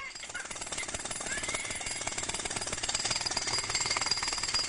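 A pneumatic drill hammers loudly and continuously, a dense rapid rattling that never lets up from start to finish.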